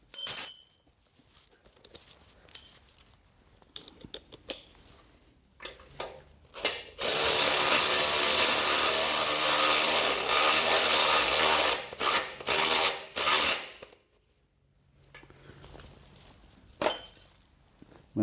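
A ratchet tightens a bolt into a threaded hole on an HQ Holden one-tonner chassis. Loud, close, rapid clicking comes in short bursts, then as one long continuous run, then in further short spurts.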